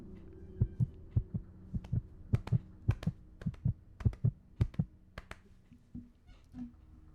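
Heartbeat sound effect with a steady lub-dub rhythm of paired low thumps, repeating about a dozen times, close and prominent over a faint hum, no talking.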